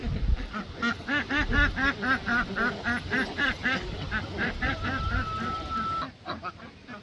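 Ducks quacking continuously at close range, a dense rhythmic chatter of many overlapping calls with a brief tonal whistle near the end, set around a farm pen.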